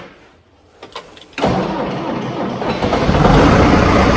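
An engine cranks over and fires up inside a shop, catching after a brief starter whir and settling into a loud, steady running rumble that builds slightly as it idles.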